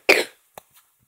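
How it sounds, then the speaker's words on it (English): A single sharp cough, close and loud, followed by two faint short throat sounds in a quiet room. "Oh, I have a cough."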